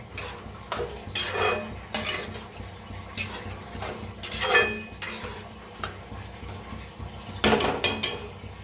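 A spoon stirs masoor dal in a metal pan, scraping and clinking against the sides in repeated, uneven strokes, heard close with no voices.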